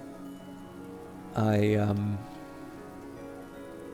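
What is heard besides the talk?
rain falling in the video game Book of Hours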